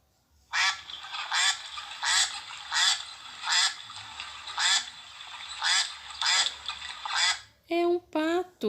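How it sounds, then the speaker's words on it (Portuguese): A duck quacks in a steady series of about nine loud, evenly spaced quacks, close and clear, followed by a short burst of speech at the end. "É um pato."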